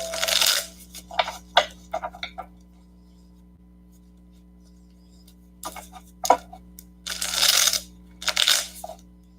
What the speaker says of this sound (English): I better shuffle a couple more times